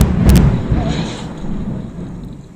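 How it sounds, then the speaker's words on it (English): Thunder from a storm over mountains near a South African waterhole: a loud, deep rumbling boom that opens the clip and slowly fades into a low, lingering roll. "That was a little bit of thunder."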